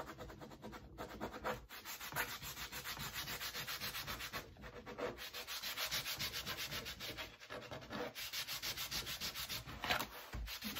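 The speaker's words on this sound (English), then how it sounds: "And I kind of scrub it like in all directions." Steady, continuous scrubbing of a dirty Cricut cutting mat with a wipe, worked in all directions; a close, dense rubbing that runs the whole time with brief pauses and no talking.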